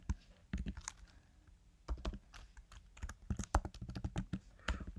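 Rapid typing on a computer keyboard: irregular clusters of sharp, close clicks and key taps with short pauses between bursts.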